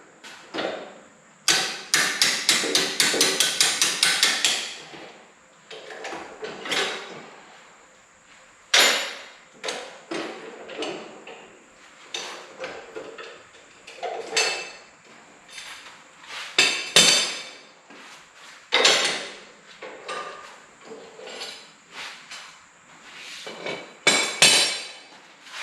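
A hammer pounding metal parts while a Farmall Cub tractor is disassembled, starting with a rapid flurry of ringing blows and then spaced single and double strikes over the rest of the stretch.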